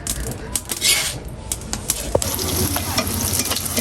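Roti frying on a pan: a steady close sizzle runs throughout, broken by scraping and stirring scrapes and a sharp metallic tap near the middle, with no talking.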